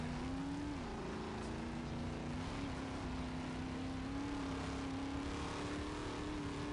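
Steady engine drone of a car driving in the racing video game Forza Horizon on Xbox 360, holding a fairly constant pitch with small rises and dips throughout, loud and continuous with no talking.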